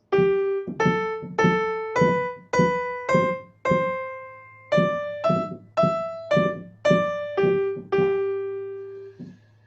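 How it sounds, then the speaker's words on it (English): A plucked melodic line played backwards, distinct notes in uneven rhythm, some ringing longer, played solo over a low steady hum. "So if I play the backwards melody, it sounds like this."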